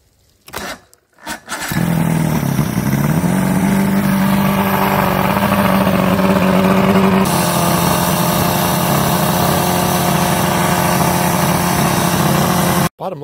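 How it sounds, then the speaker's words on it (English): Car engine with a low-compression cylinder, after cylinder cleaning, cranks briefly and catches, then runs in a loud, steady idle with a rising rev, close up, before cutting off abruptly. "let's go ahead and fire it back up"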